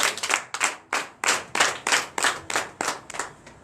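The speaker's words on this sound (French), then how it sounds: "Donne l'acclamation à Jésus." Church congregation clapping in unison at a Sunday worship service in Comè, Benin, a steady rhythmic run of loud, close claps in evenly spaced bursts with no talking.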